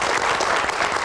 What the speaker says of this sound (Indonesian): Kita berikan tepuk tangan untuk Pak Sunaryono.